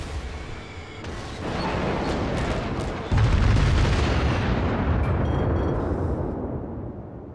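Heavy battleship gunfire rolls through a naval battle game, booming salvos and explosions layered into a dense, continuous roar with a sharp louder blast about midway, the rumble sustained throughout.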